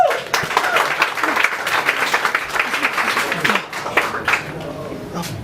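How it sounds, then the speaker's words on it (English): An audience at a coding school event applauds a volunteer, with a few seconds of scattered, uneven clapping that fades toward the end, mixed with some voices. "Let's give him a round of applause."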